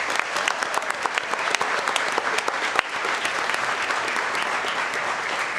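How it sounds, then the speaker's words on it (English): Audience applause at a school district governing board meeting honoring a sports team and its coaches, a full, sustained burst of many hands clapping at steady volume throughout. "if we can give these guys and our coaches a great round of applause,"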